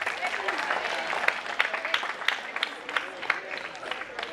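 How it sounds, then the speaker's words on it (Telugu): Parents clapping in support at a gathering, a sustained round of applause from a group with sharp individual claps standing out, moderately near and steady over several seconds. "మీ యొక్క కోఆపరేషన్ ని, సపోర్ట్ ని క్లాప్స్ ద్వారా చెప్పాలని చెప్పేసి రిక్వెస్ట్ చేస్తున్నాను"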